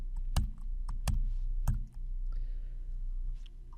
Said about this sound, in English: press Windows key and then the right arrow on the keyboard